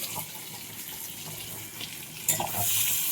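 Green peas dropped into hot oil while cooking vegetable khichuri, giving a steady frying hiss with a louder watery sizzle partway through.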